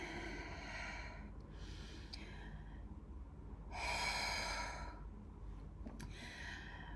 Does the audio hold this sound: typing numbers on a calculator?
no